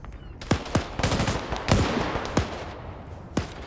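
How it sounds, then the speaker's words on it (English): GPMG machine gun fire in a Falklands-set multiplayer shooter match, with sharp, loud bursts and single cracks spread unevenly across the clip over a constant background din of battle, no talking. "GPMG fires, kills the squad leader right there"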